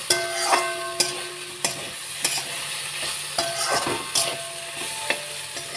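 Potatoes frying in a pan, a constant dense sizzle with periodic spatula scrapes and knocks at roughly one-second intervals, close and steady with no speech.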